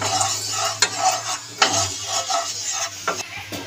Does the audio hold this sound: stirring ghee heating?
yes